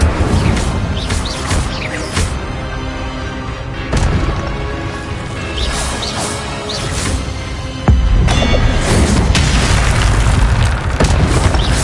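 In Hogwarts Legacy, Incendio fire spells are cast amid battle, with heavy booming bursts, crackling flame whooshes and crashing impacts overlapping, loud and close, with a sudden bigger blast near the end.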